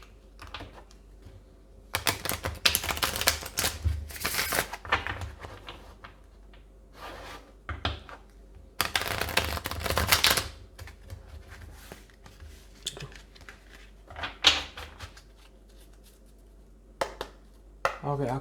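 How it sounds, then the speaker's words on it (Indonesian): Tarot cards being shuffled by hand at close range, heard as intermittent bursts of papery riffling and rubbing separated by quieter pauses. "shuffle kartunya live."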